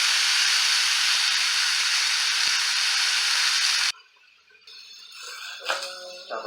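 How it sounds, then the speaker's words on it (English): Pineapple pieces hit a very hot pan and sizzle loudly at once, a steady broad hiss that holds for several seconds before cutting off, followed by quieter kitchen clatter. "Chucking the pineapple on. An immediate sizzle is what you want to hear."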